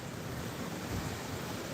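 Sea waves surge and break on Southbourne Beach in Dorset, a continuous, fairly faint wash of surf with wind noise buffeting the microphone and no one speaking.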